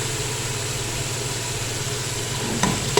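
Masala and ghee sizzle steadily in a pot while being roasted for aloo gosht, a continuous close frying hiss with no talking over it.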